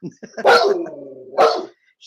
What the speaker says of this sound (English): Just barking.